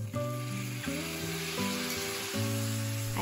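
Green chillies and eggplant pieces sizzling in hot oil in a frying pan, a steady close hiss with soft stirring scrapes and a low tonal hum running underneath.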